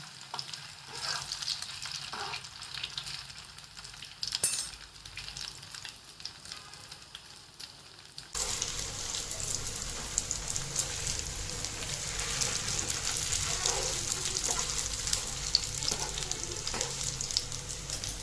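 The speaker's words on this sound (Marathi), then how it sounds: "शालो फ्राय करून घ्यायचे" Soybean seekh kababs shallow frying in oil in a pan give a steady close sizzle that runs throughout, growing louder and fuller partway through, with no talking.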